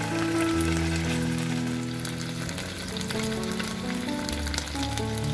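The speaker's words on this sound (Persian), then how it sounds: "یه طرفش که سرخ شد برمیگردونیم تا طرف دیگه‌ش هم سرخ بشه." Chicken pieces frying in a pan give off a steady, close sizzle with soft crackles, over sustained background music and no speech.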